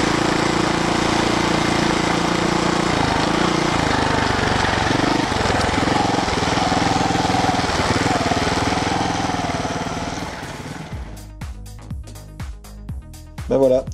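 A Montesa 300RR four-stroke trial motorcycle engine runs loud and close, a rough steady drone that fades toward the end into sharp intermittent revs and blips.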